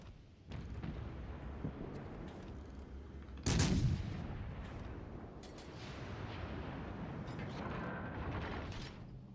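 Naval artillery in World of Warships Legends fires one heavy close blast midway, preceded by lighter distant thuds and followed by a sustained rumbling battle din.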